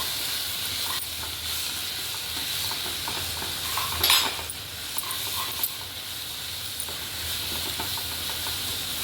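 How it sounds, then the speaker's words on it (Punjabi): Spice masala roasts in oil for Dhaba-style palak paneer, giving a continuous bright hiss and sizzle with scattered scrapes and clinks of stirring in the pan, plus one sharper knock midway. "ਮਸਾਲੇ ਨੂੰ ਵੀ ਆਪਾਂ ਚੰਗੀ ਤਰ੍ਹਾਂ ਭੁੰਨਾਂਗੇ 2-3 ਮਿੰਟ ਜਿੰਨਾ ਤੱਕ ਮਸਾਲਾ ਤੇਲ ਨਹੀਂ ਛੱਡ ਦਿੰਦਾ"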